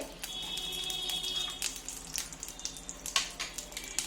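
A bay leaf, dried chili and cumin sizzling in ghee and oil left over from frying, a steady crackling hiss with scattered sharp pops and spatters, close by.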